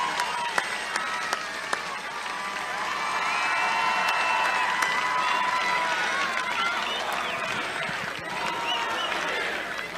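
Crowd at an outdoor political rally in Prescott, Arizona claps and cheers, with sustained applause, scattered shouts and whoops swelling in the middle and continuing steadily throughout.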